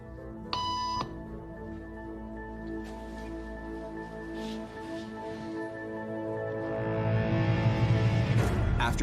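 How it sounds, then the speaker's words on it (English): A single short electronic beep tone sounds near the start over a steady droning hum, which grows gradually louder and busier toward the end without speech. "After just 3 beeps,"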